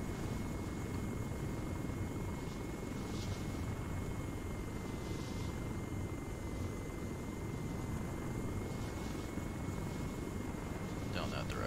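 A military helicopter flies during a field training exercise, its steady rotor and engine roar continuous and fairly loud throughout, with faint radio chatter at times.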